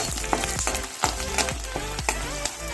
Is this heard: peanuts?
yes